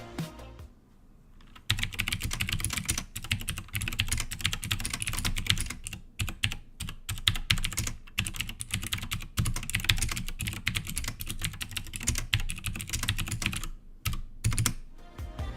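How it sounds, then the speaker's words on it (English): Rapid, continuous clicky typing on a Lofree mechanical keyboard with Gateron Blue switches, crisp, sharp keystrokes and a few brief pauses, close and fairly loud with no talking. "these use Gatron Blue switches that sound and feel great"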